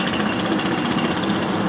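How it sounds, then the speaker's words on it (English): Jackhammer pounding at a nearby construction site, a loud continuous rapid hammering that fills the whole moment with no voices over it. "Darn jackhammer."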